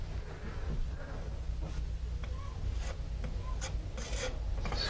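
Spackling compound being spread over drywall with a putty knife, a close, steady scraping and rasping with a few sharper scrapes, no voices.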